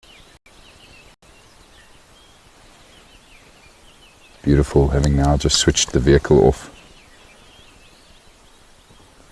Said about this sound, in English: Well, we are busy experiencing the morning chorus.